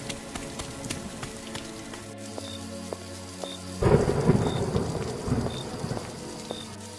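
Steady rain falls on surfaces while a thunderstorm rumbles, with a loud rolling thunderclap midway and a faint repeating chirp in the background, no voices.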